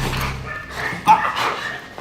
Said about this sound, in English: This is what we would call the beginning stages of controlled aggression, where our dogs are taught how to apprehend people.